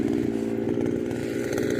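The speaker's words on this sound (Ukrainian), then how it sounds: "Ну, вже довгенько вони і бурять." A drilling rig boring pile holes at a construction site, a loud continuous droning engine with a rough buzzing rhythm that runs steadily throughout and stays close.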